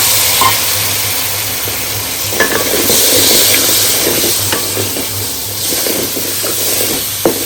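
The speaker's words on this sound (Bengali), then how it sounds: "এগুলো হালকা ভাজা হয়ে আসা পর্যন্ত নাড়াতে হবে" Steady sizzling of cubed potato and papaya frying in a pan with turmeric and salt, with repeated scraping and clinking as they are stirred, close and continuous with no talking.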